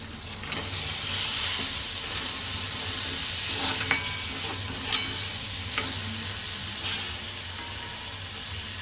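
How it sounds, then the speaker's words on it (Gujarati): Green chickpeas cook in oily masala in a pan, a steady close hiss of frying with a few faint ladle clicks and taps spread throughout, no voices. "અહીંયા મસાલાએ તેલ છોડી દીધું છે એટલે હવે આપણે એમાં ચણા નાખી દઈશું"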